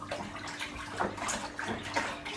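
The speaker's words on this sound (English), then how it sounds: "I'm taking advantage that the hot water is melting the malt, and I'm going to just keep moving here, just melt everything" Hot water being stirred to melt malt for a homebrew kit, with soft repeated sloshing swirls in a rough rhythm, close by and continuous.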